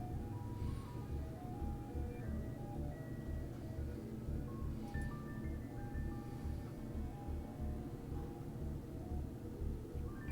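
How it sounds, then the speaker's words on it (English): An ice cream truck outside plays its tinkling jingle, a steady repeating melody heard at a moderate distance over a low continuous hum, with no talking. "can you hear the ice cream truck outside"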